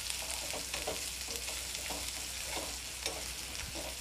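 Sliced onion frying in a pan is stirred with turmeric and finely chopped coriander, a steady close sizzle broken by regular scraping strokes of the spoon.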